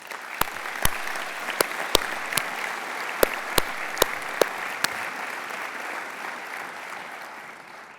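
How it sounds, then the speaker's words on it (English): Graduation-ceremony audience applauding the school's teaching staff: a dense, even wash of clapping lasting about eight seconds, punctuated in the first half by a few sharp, louder individual claps close by, then tapering off. "So I really think they all deserve a round of applause."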